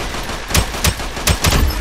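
Four loud, punchy shotgun blasts from a Roblox shooter game, spaced unevenly about every third of a second to half second, each a sharp broadband crack with a short boom, over a steady game background hum.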